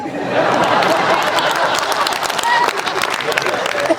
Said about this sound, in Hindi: ये स्वीकारोक्ति की तालियां हैं।